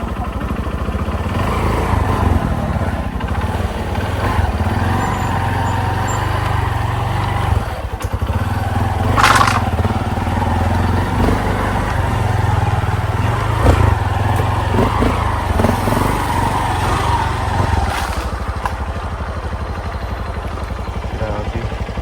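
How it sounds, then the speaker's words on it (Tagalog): A motorcycle engine runs steadily nearby beside a bridge, its low, rumbling drone continuing throughout with occasional clatter and brief sharp noises, while people talk intermittently over it. "Ang motor mo, Choy."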